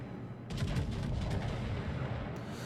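Naval guns firing high-explosive shells in World of Warships during a defense of Naval Station Newport, a sustained rumbling barrage of overlapping booms at moderate distance, with a sharper report near the end.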